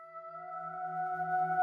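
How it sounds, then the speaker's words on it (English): A quiet, sustained tonal vocal-like drone with steady pitched layers, hollow and eerie, holding without words. "Then we have this like vocal sample which we use in the intro."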